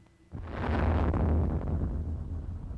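Bomb blast set off near an office in a blast test with a dummy, one loud sudden explosion bursting in after brief quiet and rolling on as a broad roaring rumble that slowly fades.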